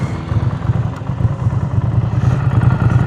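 A Ducati Scrambler Urban Enduro, fitted with Termignoni race exhausts and the dB killer in place, firing up and settling into a steady, close, loud idle with a rough mechanical clatter, with no talking.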